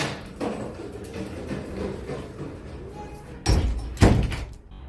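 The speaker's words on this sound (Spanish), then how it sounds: "está la puerta y esta te va a conectar con el área de lavado" A kitchen door leading to the laundry area of a house bangs shut twice near the end, two loud close thuds after a stretch of low room noise.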